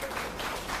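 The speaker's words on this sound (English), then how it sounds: "Give them a round of applause." Audience applause at a neighborhood housing forum after a panel, a brief dense wash of many hands clapping, steady and moderately loud.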